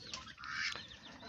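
A few quick duck quacks ring out close by, nasal and rasping, over a soft background hiss with no talking.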